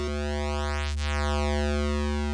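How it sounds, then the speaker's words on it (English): A sustained tone from the Air Hybrid 3 software synth with two oscillators detuned slightly up and down in cents, its harmonics sweeping in a steady phasing shimmer, loud and alone. "we've already got a bit of a phasing effect going on there"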